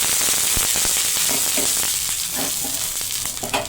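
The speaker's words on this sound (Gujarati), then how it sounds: "હવે આપણે ગરમ તવીને થોડી પાછી પાડવા માટે આ રીતે ફરીથી પાણી નાખવાનું છે." Water splashed onto a hot griddle (tawa) while making spicy pudla hisses and sizzles loudly and continuously, close up, with scattered crackling pops throughout.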